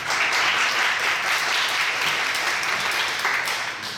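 A church congregation at a young adults' worship service claps together in a loud, full round of applause that holds steady and eases off slightly at the end.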